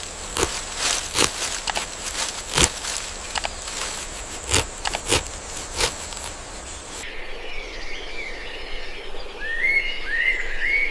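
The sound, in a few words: bird calls in the Amazon jungle at dawn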